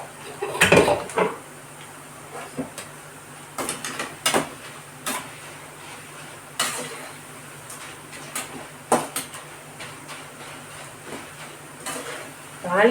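Curry leaves and garlic tempering in hot oil for kara boondi, with soft sizzling under scattered clinks and stirring knocks of a utensil against a pan, close and intermittent.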